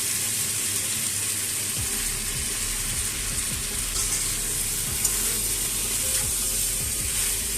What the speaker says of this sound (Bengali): এর মধ্যে আমি এবারে দিয়ে দেবো ভেজে রাখা চিংড়ি মাছগুলো